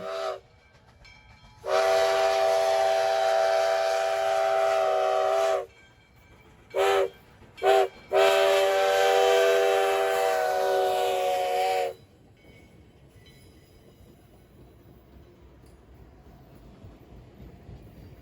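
A loud steam whistle blows in long blasts with short toots between, then steam locomotive #148's chuffing and rumble continues more quietly as it pulls an excursion train on U.S. Sugar rails.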